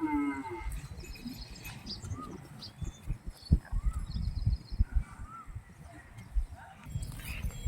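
A cow lets out a low moo at the start, followed by shuffling, thumping hooves and faint birdsong in an open farmyard.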